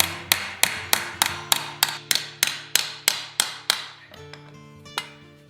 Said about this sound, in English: I'm just hammering up to the line.